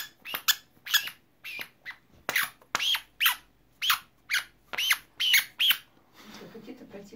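A papillon dog plays with a raccoon toy, making a series of sharp, high squeaks and squeals in quick bursts. Near the end a person speaks softly.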